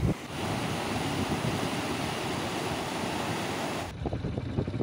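Water rushing steadily at a pond near Kalakad falls in Tirunelveli, a dense continuous roar mixed with wind buffeting the microphone, loud and close with no talk.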